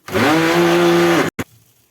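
A kitchen blender gives one loud, steady pulse of about a second while blending raw unsweetened cocoa for a homemade chocolate spread, with a whining motor tone, then a short second blip and silence.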